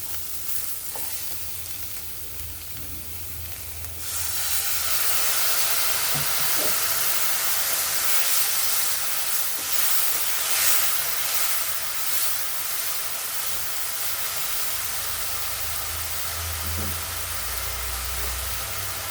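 Whole mace, nutmeg, cumin, cubeb and coriander sauté in hot oil for a goat curry, a quiet hiss jumping to a loud, steady sizzle after a few seconds, with occasional scrapes and clinks of stirring and no talk.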